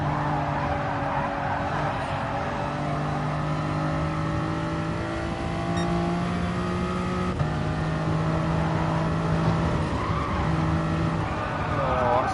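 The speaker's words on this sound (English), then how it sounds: "Had a nice drift around that corner then" Car tires squealing in a long, steady skid while drifting a corner in GT Sport, over a droning race-car engine that shifts pitch midway, loud and continuous throughout.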